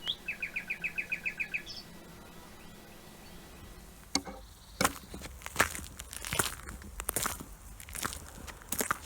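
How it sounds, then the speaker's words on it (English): A bird in a country churchyard gives a quick run of evenly spaced chirps, followed by scattered crunchy knocks and rustling sounds. "Sound of birds singing"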